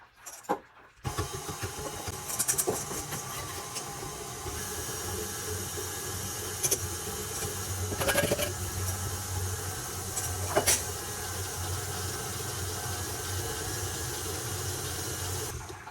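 An electric mixer blends dry ingredients into apple fritter batter, giving a steady, fairly loud whirring drone that starts after a brief moment and continues unbroken, with a few small knocks and clatters from the bowl.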